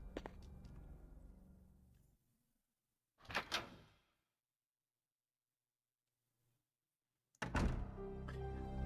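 Door opening in the Resident Evil 3 video game: a heavy mechanical clunk and rumble, a sharp burst midway, then another loud thud and grinding swell after several seconds of near silence, with no talk.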